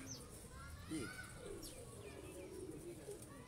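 An Imamdeen pigeon, an old pure-bred kabootar, gives soft cooing calls up close among other bird chirps, while someone talks nearby.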